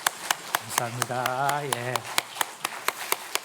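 Church congregation in Korea giving a round of encouraging applause, heard as a slow, sparse run of single claps under someone speaking.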